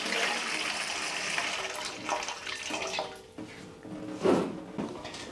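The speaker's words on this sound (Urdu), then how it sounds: "کھیر کو ٹھنڈا کرنے کے لیے پانی لے لیتے ہیں" Water poured into a vessel to cool a saucepan of freshly cooked kheer, a steady splashing, trickling pour close by that runs a few seconds, with a brief louder splash near the end and no talking.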